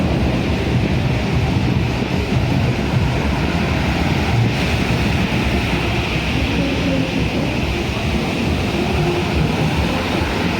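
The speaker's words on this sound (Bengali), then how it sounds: "তো দেখো সমুদ্রের আজকে কি ঢেউ, এইখানে জল চলে এসেছে।" Sea waves on a stormy day roar continuously as surf pounds the shore, mixed with heavy wind buffeting the microphone, loud and unbroken throughout.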